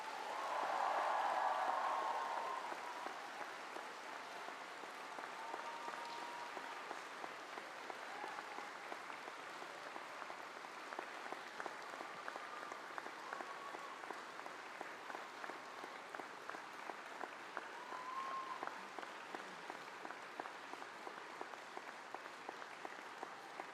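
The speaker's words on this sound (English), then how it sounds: "Please now give them a huge round of applause." Applause from a graduation audience fills an arena, steady and fairly distant. It swells briefly at the start, then settles into a sustained, even wash of clapping with no talking.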